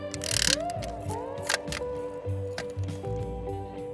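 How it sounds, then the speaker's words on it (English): A wooden mold box is broken apart and an epoxy resin board pried free, with creaking, cracking and a couple of sharp snaps over a steady background hum. "we'll just break apart our mold box here and pry off our board"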